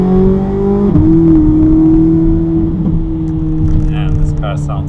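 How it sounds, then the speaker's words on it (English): A modified Corvette C8 Z06 exhaust drones loudly while driving, holding a steady low tone that shifts pitch once as the car changes speed, with a voice talking over it. "The exhaust sounds just insane."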